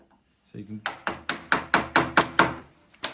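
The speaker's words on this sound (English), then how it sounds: "you hear a little bit of creaking and crackling." A molded plastic monster truck body is worked free from its mold, giving a rapid, evenly spaced series of about ten sharp cracking pops, close and fairly loud.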